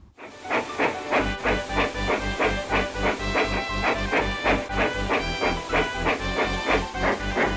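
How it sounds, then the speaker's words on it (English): Rhythmic chuffing and hissing of a steam locomotive, regular strong puffs repeating steadily, close and loud. "the fireman built up his fire, made lots of steam, and Edward chuffed happily away"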